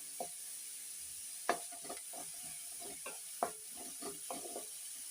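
Orange carrots and mixed vegetables sautéing in butter in a pan for a vegetable soup, with a faint sizzle under sparse scraping stirs and a few sharp utensil knocks.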